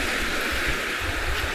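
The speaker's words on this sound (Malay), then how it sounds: "mendengar bunyi ombak" Ocean waves wash along the beach at Bukit Sematan, a steady broadband rush of surf heard close and continuous, with no voices.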